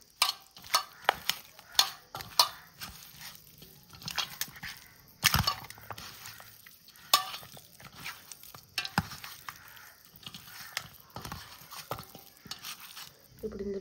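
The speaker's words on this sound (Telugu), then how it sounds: "ఇవి వేసేసాక బాగా కలుపుకుందాం." Chicken pieces are mixed by hand or spoon with chili powder, garam masala, coriander powder, gram flour and garlic, giving close, uneven wet squelching and scraping strokes with a few sharper knocks.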